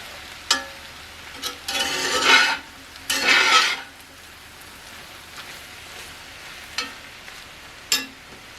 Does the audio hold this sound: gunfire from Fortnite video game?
no